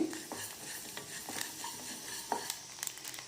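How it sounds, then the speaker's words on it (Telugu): A spoonful of mustard seeds fries lightly in oil for a chicken gongura pickle, giving a faint, even sizzle with soft stirring scrapes and a few small crackles. "ఒక స్పూన్ ఆవాలు వేసుకుంటే సరిపోతుంది కొద్దిగా లైట్గా ఫ్రై చేసుకోవాలి"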